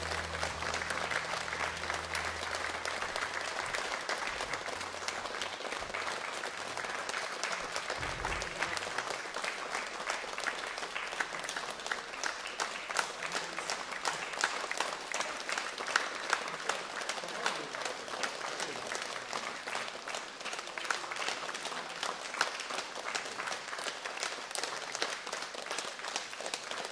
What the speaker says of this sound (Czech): Je dobře, že tleskáte.